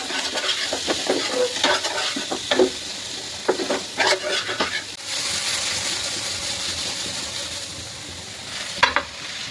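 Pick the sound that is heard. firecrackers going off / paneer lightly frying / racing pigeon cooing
paneer lightly frying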